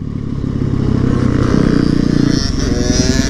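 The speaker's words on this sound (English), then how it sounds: "Hey, we got some dirt bike riders." Dirt bike motorcycles ride past close by, their engines buzzing loudly and steadily with a rising, revving drone and some clattering.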